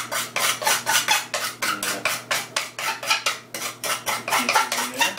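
Finely ground coffee being worked loose in a metal strainer with a utensil, a rhythmic series of close scraping, rasping strokes, about three per second, steady and loud with no speech.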